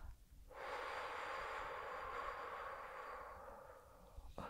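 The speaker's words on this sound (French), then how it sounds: "Vous pouvez expirer par la bouche, par le nez, pas d'importance." A single long, steady exhale during a calm guided breathing exercise, soft and close, lasting about four seconds, with no talking.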